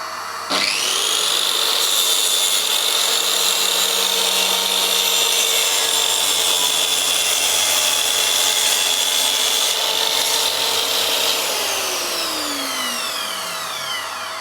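A Mac Allister plunge saw rips through wood for about eleven seconds with a vacuum dust extractor running, a loud, steady high whine that winds down at the end.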